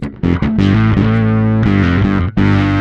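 Bass guitar played through a Darkglass Kaamos pedal, its octave effect feeding the drive, giving thick, distorted low notes that sustain and change pitch with brief gaps between phrases, loud and close.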